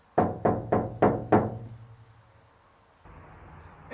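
Knuckles rap five times in a steady rhythm on the bare sheet-metal roof of a Toyota Tacoma before sound deadening, each knock close and loud with a ringing tail, followed by quiet room noise.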